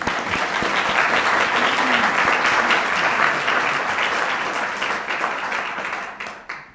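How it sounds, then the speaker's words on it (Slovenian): An audience at a lecture evening bursts into sustained, loud applause for the rector, a dense wash of many hands clapping that holds steady and then tapers off near the end. "Tako da mu zaploskamo lahko."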